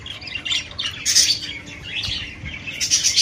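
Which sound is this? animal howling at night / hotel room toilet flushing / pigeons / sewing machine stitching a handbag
pigeons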